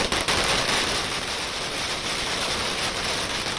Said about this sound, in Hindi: पार्टी कार्यालय के बाहर जमकर आतिशबाजी की गई।